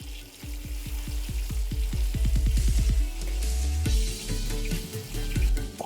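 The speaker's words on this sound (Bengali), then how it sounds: "মাছটা কিন্তু ভাজা হচ্ছে, কিন্তু কোনোভাবেই তেলটা ছেটকাচ্ছে না।" Katla fish fries in a little oil with turmeric, sizzling steadily with a rapid run of rhythmic bubbling pops that speeds up, then settles into a softer hiss.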